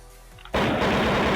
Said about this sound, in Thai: อันนี้เป็นเสียงยิงปืนนะครับนี่